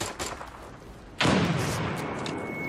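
A frag grenade goes off in a shooter game, a single sharp blast that cuts in abruptly after quiet background and then rumbles and decays into a sustained roar.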